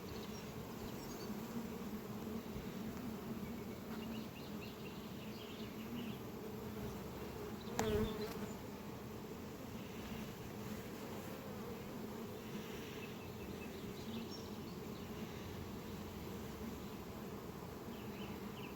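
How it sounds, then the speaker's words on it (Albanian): Honeybees buzz around an open beehive at a bee park during honey harvesting, a steady close droning hum of many insects, with one brief louder knock or bump midway. "Kjo është bletë madhështore për mendimin tim"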